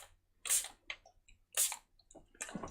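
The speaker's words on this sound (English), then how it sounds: "a good spray of water and put some bigger drips on" A spray bottle spritzes water onto Vivids paint in two distinct bright hissing bursts about a second apart, with softer wet drips and small dabs between them, close and quiet.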